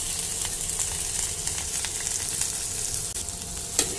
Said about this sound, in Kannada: ಎಣ್ಣೆ ಹಾಕ್ಕೊಂಡಿದ್ದೀನಿ. ಈರುಳ್ಳಿ ಮತ್ತು ಹಸಿರು ಮೆಣಸಿನ್ಕಾಯಿ ಹಾಕ್ಕೊತಿದ್ದೀನಿ.